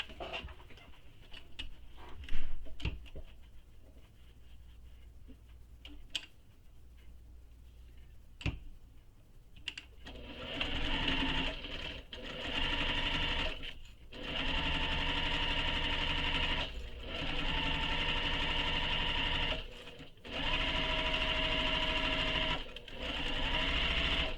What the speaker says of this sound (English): you're going to sew this raw edge closed using the seam allowance given in the pattern